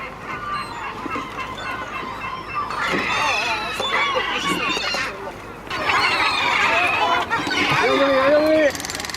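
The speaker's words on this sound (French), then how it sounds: "C'est des collisions entre mouettes" Seagulls flying over the port and ramparts of the Casbah in Morocco give repeated harsh squawks and honking cries in bursts, some close and loud, with a voice heard among the calls.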